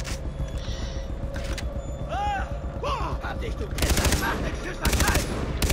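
Bursts of automatic and single gunfire in the video game Far Cry 3, loud and close, with sharp volleys near the end over a busy game soundscape and chirping effects; someone talks at times.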